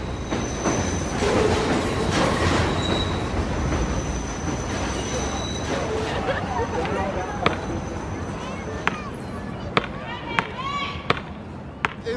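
A subway train passes through an urban neighborhood, rumbling and clattering steadily nearby with faint squeals and sharp clicks of the wheels toward the end, with speech mixed in.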